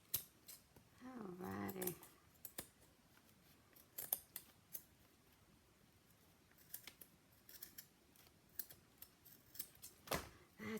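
Scissors snip in short, crisp cuts at irregular intervals, close and quiet, with a brief spoken word early on.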